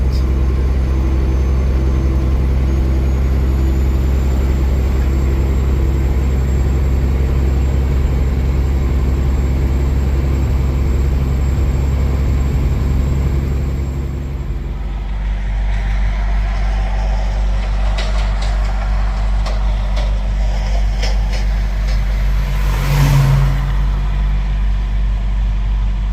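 A truck's refrigeration unit running, a loud steady low drone with a constant hum that drops in level partway through, then continues with faint patter of rain over it.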